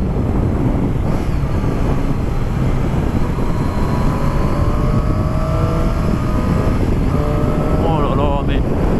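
A Triumph Street Triple S 660 motorcycle rides along with its engine and exhaust droning steadily, a loud continuous low roar mixed with strong wind rush, rising slightly in pitch near the end, while a rider speaks over it.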